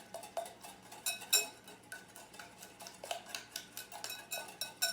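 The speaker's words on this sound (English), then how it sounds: "I take the eggs, set aside the whites, 4 yolks, 2 whole eggs. I'm going to whisk these up." Eggs, four yolks and two whole eggs, being whisked in a bowl, giving a steady run of quick clinking taps of a whisk against the bowl, close and fairly quiet with no talking.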